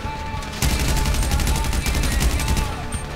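Rapid automatic gunfire in GTA Online bursts in loudly after a short quieter start and keeps up a fast, steady rattle of shots for about two and a half seconds.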